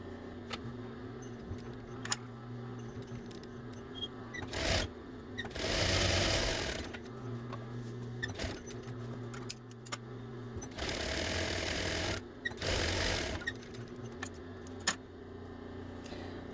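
Sewing machine edge stitching ribbon along the seam of a fabric drawstring gift bag, with several short bursts of close, rapid whirring separated by quieter pauses and small clicks.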